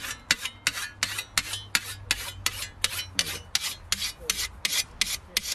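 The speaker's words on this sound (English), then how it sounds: "So that's the sharpening I'll do with the coarse stone" A scythe blade sharpened with a coarse stone: about fifteen sharp, regular rasping strokes, close and clear, alternating in a steady back-and-forth rhythm with no talking.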